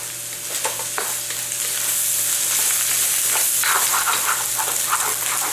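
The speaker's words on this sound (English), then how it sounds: "And I'm now going to add my rice." Rice tipped into hot oil in a wok that isn't non-stick, for pineapple fried rice, sizzling and crackling steadily and loudly throughout, with stirring scrapes rising toward the end.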